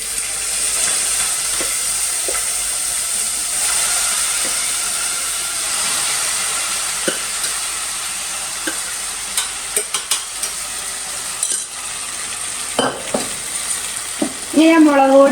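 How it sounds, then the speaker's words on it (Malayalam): Mustard seeds and water splutter in hot oil, giving a loud, continuous sizzle scattered with sharp pops and crackles, with stronger bursts toward the end. "എണ്ണ വെച്ചിട്ട് വെള്ളം കടുകും കൂടി പൊട്ടിത്തെറിക്കുമ്പോഴുള്ള ഒരു പ്രത്യേക രീതിയിലുള്ള ഒരു പ്രതിഭാസമാണ് അവിടെ നടന്നുകൊണ്ടിരിക്കുന്നത്"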